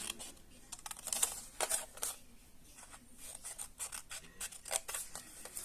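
Scissors cut through card in a run of short, crisp snips and rasps, close and fairly quiet, with no one talking.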